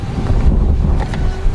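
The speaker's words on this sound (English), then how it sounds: "This wind is something else." Strong wind roars and buffets the microphone in a steady, heavy rumble with gusty surges throughout, outdoors at an oak log home build site.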